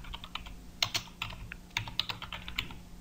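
Quick, irregular clicking of keys on a computer keyboard while entering a search query into Google, close and fairly quiet, with no voices.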